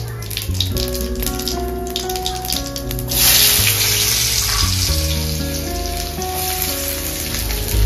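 Cumin, potato and onion sizzle loudly and steadily in hot oil, a dense crackling hiss that grows stronger partway through, with steady tonal sounds running in the background.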